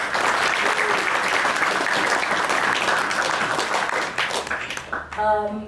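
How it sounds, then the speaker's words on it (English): Audience at a fight-night press meet applauding the fighters, a sustained dense round of clapping that thins out before a voice begins speaking at the end. "So please give them a big round of applause."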